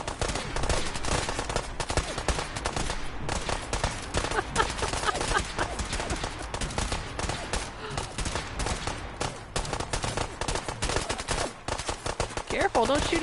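Dense, continuous gunfire from a Fallout 4 firefight near reeds, rapid bursts and shots piling up loudly over a busy game soundscape throughout, with no pause.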